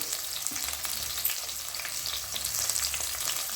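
Onion fries with cumin in a pan, giving a soft, continuous close sizzle with faint crackles and occasional stirring scrapes, fairly quiet and without voices.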